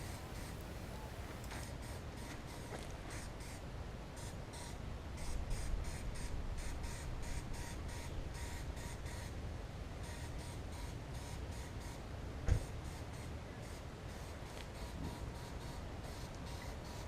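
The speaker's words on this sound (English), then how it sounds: "Now I'm going to spray with this high temp paint here." High-temperature spray paint hissing steadily from an aerosol can onto a new turbo exhaust header, a continuous broadband spray held close with slight pulses and one brief sharp click partway through, no talking.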